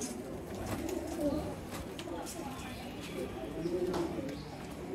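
Soft pigeon coos murmur on and off at close range beneath a man's ongoing speech in Punjabi, with faint rustling in the background.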